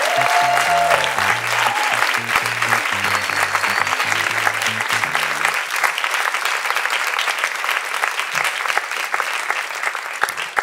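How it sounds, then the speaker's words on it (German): A studio audience at a comedy game show gives loud, sustained applause for the game winner Till Reiners, continuous dense clapping lasting about ten seconds, with music under the opening half. "Großen Applaus für den Gewinner von Spiel 2"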